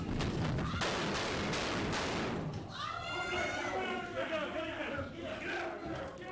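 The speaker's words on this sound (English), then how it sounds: "terrifying sounds there of gunshots" Recorded audio from a shooting inside a Salt Lake City federal courtroom carries several sharp, loud bangs in quick succession amid shouting and commotion, followed by urgent yelling voices.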